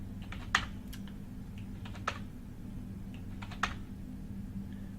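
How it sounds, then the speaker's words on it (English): Keys clicking on a computer keyboard as numbers go into a spreadsheet table, a few quiet scattered taps in small bursts, the clearest ones sharper, over a steady low electrical hum. "I meant to type these as percents"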